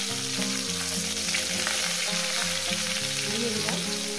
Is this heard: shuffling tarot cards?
no